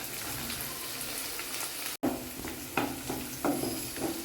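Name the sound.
chana dal frying with onion in a pan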